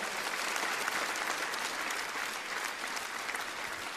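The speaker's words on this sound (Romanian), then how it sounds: "Aplauze, vă rog!" Concert audience applauding steadily and densely throughout, a full room of clapping at an even, sustained level with no voices standing out.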